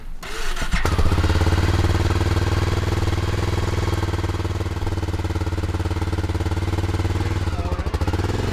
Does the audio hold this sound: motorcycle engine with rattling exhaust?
yes